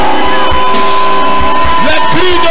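A church congregation raises loud shouts and cries of joy, a dense, saturated crowd roar with whoops and yells layered over sustained tones, voices blending continuously throughout.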